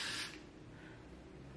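Got2b spray glue hisses briefly from an aerosol can onto a wig, a short close burst that fades quickly into quiet background hiss.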